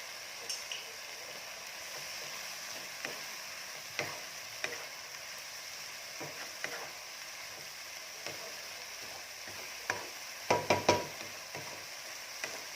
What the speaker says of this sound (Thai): เดี๋ยวเราผัดให้แห้งนิดนึงแล้ว เราก็ยกขึ้นได้เลยค่ะ